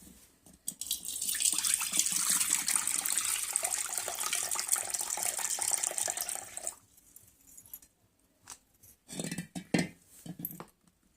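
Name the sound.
rinsing poha flakes with running water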